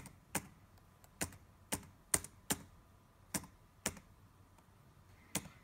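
Slow, deliberate keystrokes entering a Visa card number on a keyboard, about nine separate close clicks spaced unevenly, quiet and with no talking.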